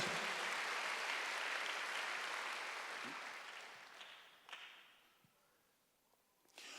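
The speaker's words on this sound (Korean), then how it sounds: "믿는 사람만 박수 한번 주세요" A church congregation at a Wednesday worship service breaks into a broad wash of applause that gradually thins out, followed by a few scattered claps near the end.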